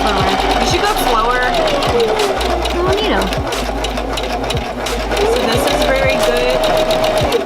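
A sewing machine stitches continuously in a close, loud mechanical whir with rapid rhythmic needle knocking, while a person talks over it throughout.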